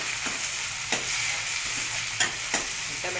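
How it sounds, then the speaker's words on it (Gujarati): Tomato frying with onions in a pan, a steady loud sizzle with periodic stirring scrapes breaking through every second or so, with no voices. "ડુંગળી થોડીક સતળાઈ જાય પછી આ ટમેટું છે ને એ નાખી દેશું."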